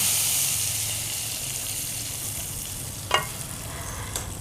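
Steady broadband sizzling of hot oil tempering with golden-brown garlic poured into a pot of lentils, with a couple of sharp clinks of a utensil near the end.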